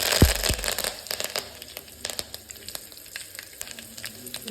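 Mustard seeds and garlic frying in hot oil for tempering, with a sharp initial hiss and a burst of crackling pops that settles into scattered spitting and sizzle, close and with no talking.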